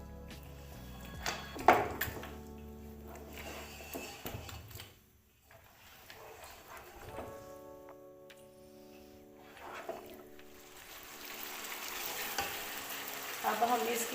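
Beef trotters fry in a cup of oil, a soft crackling sizzle with spoon scrapes and clinks from stirring, quiet and close, with a brief near-silent lull midway.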